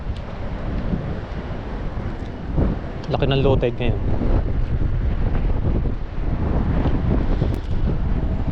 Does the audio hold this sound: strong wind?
yes